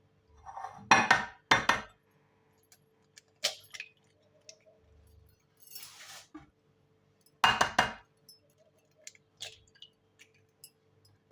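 Three eggs cracked one by one into a mixing bowl for a whole-grain cake batter, giving sharp clinks and taps against the bowl with short wet splashes, close and fairly quiet, with brief pauses between.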